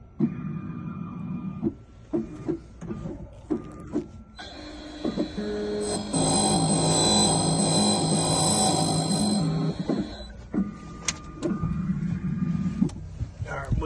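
A key-cutting machine shaves down a new truck compartment key: a few seconds of loud steady whirring grinding, framed by scattered clicks and handling noises from the machine before and after.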